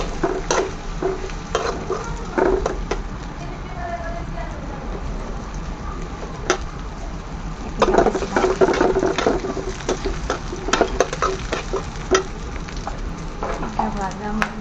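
Green chillies frying and being stirred in a pan for goat brain bhuna: a close, continuous sizzle with repeated scraping stirs throughout.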